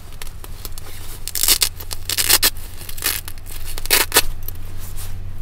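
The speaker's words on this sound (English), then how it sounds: "It's Velcro." Velcro on a minus-25 sleeping bag rips open in a series of sharp, close tearing bursts of uneven length, with no voices over them.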